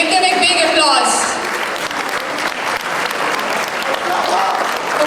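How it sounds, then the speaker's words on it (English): A Pakistani Day programme audience bursts into steady, dense applause that carries on throughout, with a voice speaking briefly over the clapping at the start. "Ladies and gentlemen, give them a big applause."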